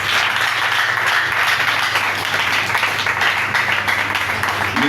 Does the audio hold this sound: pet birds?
no